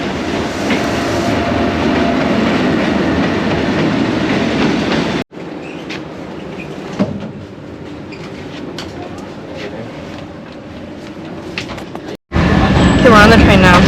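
A train in Vietnam rumbles along the rails with a steady roar, broken by two abrupt cuts; a faint click and muffled interior noise in between.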